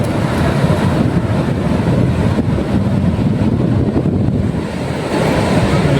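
Sea waves at Gopalpur beach roll in as a continuous loud wash of surf, with heavy wind buffeting the microphone and no voices.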